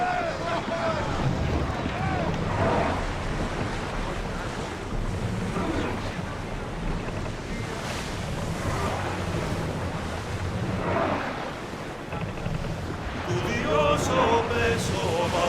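Ocean waves wash steadily around a sailing ship on open water in Assassin's Creed Odyssey, with wind gusting across the deck throughout and a brighter splash or rigging detail near the end.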